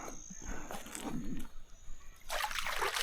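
A hand splashes and dips into lake water at Lake Kerford beside a hooked trout cod, with soft wet sloshes and trickles close by, then a brighter burst of splashing at the end.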